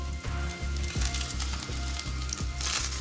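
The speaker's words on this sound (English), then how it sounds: "Once the fish fingers are thoroughly coated, they're ready to pan fry." Breaded fish fingers pan frying in hot oil, a close, steady crackling sizzle with faint recurring low thumps underneath, continuous throughout.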